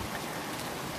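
Rain patters steadily on a van parked in a car park during a storm, giving a soft, continuous hiss of drops at low volume with no voices.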